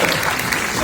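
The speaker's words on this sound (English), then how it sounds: "Yeah, you should applaud that." Audience applause at a film Q&A event for the movie Joker, a steady wash of clapping from a crowd filling the whole short moment, loud and continuous with no pauses.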